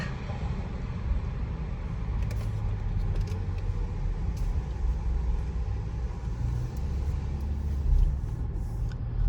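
Car interior while driving slowly into airport parking, a steady low engine and road rumble with faint jangles and rattles, continuous and close, without talk.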